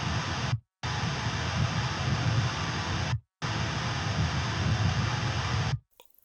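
Quad-tracked, high-gain rhythm metal guitars form a dense, loud wall of distortion, played in three sustained blocks cut by short, abrupt stops.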